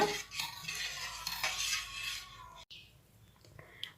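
A spoon stirs and mixes chutney in a pan, giving close scraping and sloshing strokes with light clinks against the metal and a brief pause partway through.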